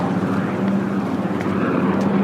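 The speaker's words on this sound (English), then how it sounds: "Look at that helicopter." A Navy or Coast Guard helicopter passes overhead outdoors, a steady, moderately loud rotor and engine drone with no talk over it.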